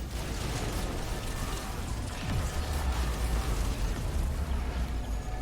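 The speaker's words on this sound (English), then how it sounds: "Every single pure void enemy has that kind of death explosion." Dense, booming bursts and rumbling blasts fill a hectic fight in the game Risk of Rain 2, where void enemies blow up on death, loud and continuous over a roaring noisy backdrop.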